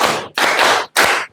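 Three loud bursts of group hand clapping from a classroom of pupils responding to a cue, each burst a dense smear of many hands, with short pauses between.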